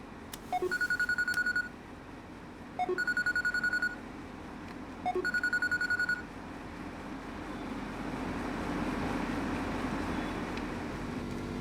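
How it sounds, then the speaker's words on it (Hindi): A mobile phone rings in three evenly spaced bursts of bright electronic tones, each about a second long, over a steady low rumble like a moving vehicle that grows slightly louder after the ringing stops. "तुम्हारा फोन बज रहा है।"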